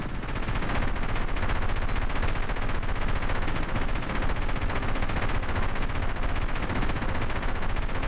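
Rapid auto cannon fire from a helicopter in a video game, upgraded to level 2, a dense continuous stream of shots that stays loud and steady throughout with no talk over it.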